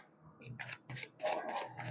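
Tarot cards are drawn and shuffled by hand, giving quick papery riffles and flicks in short bursts over about two seconds, close and fairly soft.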